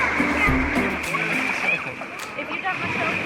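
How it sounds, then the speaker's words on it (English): Buckets of water tipped out at the beach splash and slosh onto sand and shallow water, a steady close wash under children's voices and chatter. "Let's just tip the buckets and start dumping water"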